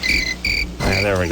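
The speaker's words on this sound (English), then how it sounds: "Let me hear those crickets in the background for a second." Virginia crickets chirping at 2 a.m., relayed over a phone line: two loud pulsed trill bursts, then someone speaks over the continuing chirps.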